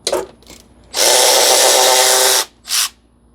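Power tool zipping out fan clutch bolts on a 2008 Ram Cummins truck: a few short bursts, then one loud sustained whir of about a second and a half, followed by another brief burst, heard close with no talking.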